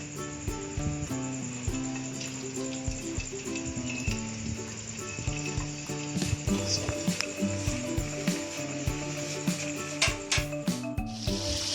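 Kaleji, chicken liver, frying in a few spoons of oil, a continuous sizzle running under loud background music throughout, with occasional clinks and stirring scrapes.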